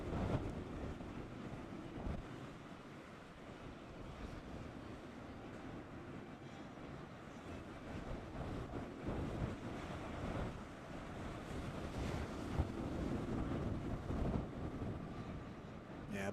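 Strong, steady wind roaring over the open sea with waves washing and breaking continuously at a windsurfing World Cup event in Gran Canaria, with no voices.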